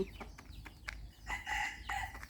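Chickens clucking and calling close by, a run of short bursts and a longer crow-like cry, with no one speaking.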